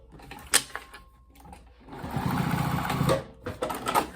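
A home sewing machine quilts stitching across the card slot panel of a fabric wallet, whirring in short bursts with clicks and pauses, then a longer, louder run of rapid stitching.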